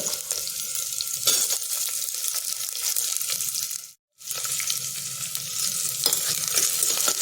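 Onions tossed into hot oil with green chillies and ginger-garlic paste for Mughal veg pulao, a steady close sizzle with scraping stirs throughout, dropping out briefly midway before resuming just as loud; no voices.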